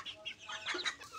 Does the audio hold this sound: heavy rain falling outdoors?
no